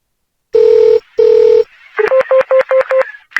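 Telephone tones from a call to a police station: two long steady ringing tones, then a quick run of about seven short keypad dialing beeps, loud and close with no voices.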